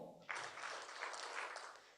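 Conference audience at an HR awards summit clapping together as part of a counting game, a short, fairly quiet burst of collective applause that starts abruptly and lasts under two seconds.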